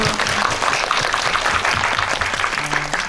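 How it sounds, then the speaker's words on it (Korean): Audience applause at a Korean film event for the movie Phantom, a steady wash of clapping through the whole moment with faint murmuring and low voices mixed in. "박수."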